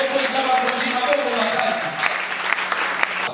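A church congregation claps steadily and loudly throughout, the applause sustained with cheering voices mixed in.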